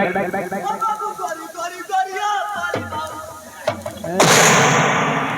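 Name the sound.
gunshots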